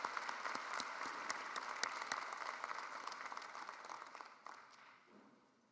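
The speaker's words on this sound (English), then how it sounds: "Let's give a round of applause to all of the marshals in today's ceremony." An audience at the Eastern Illinois University 2019 fall commencement applauds the student marshals with a sustained, dense patter of clapping that gradually thins and fades toward the end.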